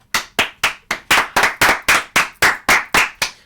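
Sharp hand claps ring out in an even, steady rhythm, about a dozen of them close and loud with no other sound, given as applause for the Houston Astros baseball team.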